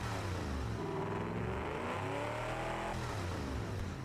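Race car engine in the Automation game, built for a 1960s Le Mans car, revving hard with a rising, falling harmonic growl, loud and continuous throughout.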